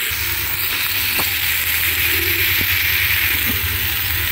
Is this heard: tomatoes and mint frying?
yes